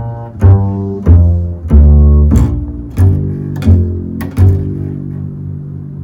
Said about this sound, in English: So the whole arpeggio will sound like this